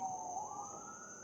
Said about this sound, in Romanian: E un amestec între sunetul naturii și sirenele orașului.